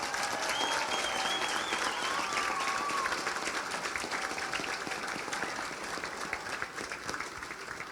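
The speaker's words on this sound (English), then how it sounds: "a massive round of applause for Cappatagle" Sustained applause from a large crowd at a Galway senior hurling final, dense clapping at steady volume throughout, with a few whistles near the start.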